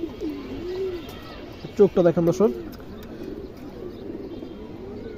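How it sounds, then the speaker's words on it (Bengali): Pigeons of Kaldom and related lines coo at a sale, a burst of rhythmic rolling coos loud and close in the middle, with someone talking before and after. "এই দেখেন মাদি কবুতর খুবই সুন্দর একটা কবুতর"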